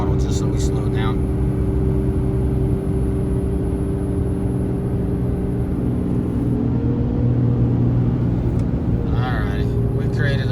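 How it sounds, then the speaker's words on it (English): A diesel truck towing a heavy load rolls along with the throttle backed off as it slows, giving a steady low engine rumble with road noise and some faint higher whines. "I've backed off the throttle just so we slow down."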